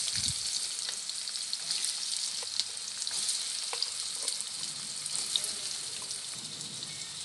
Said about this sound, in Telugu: ఆయిల్ వేడెక్కాక ఉల్లిపాయలు వేసుకుని వేపుకుందాం.